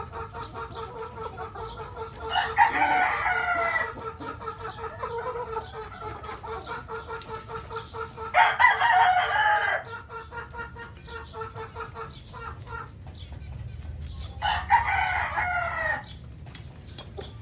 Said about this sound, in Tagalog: White kelso brood stag.